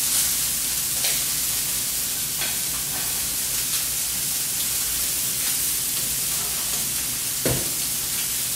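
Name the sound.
meat searing in a hot oiled pan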